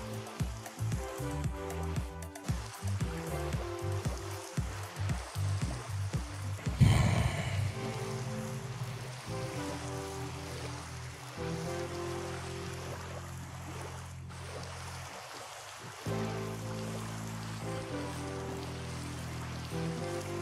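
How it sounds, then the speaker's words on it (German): Steady, soft rain hiss in Minecraft runs throughout alongside layered background music, with a brief louder splash or rumble partway through. "Was nicht okay ist, dieser permanent anhaltende Regen."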